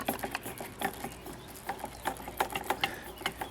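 A McCormick Deering M tractor's fuel pump runs with a rapid, uneven patter of small ticks and clicks, close by and fairly quiet, with no voices over it.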